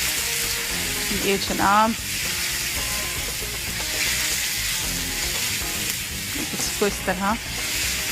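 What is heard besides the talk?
chicken strips lightly frying in a pan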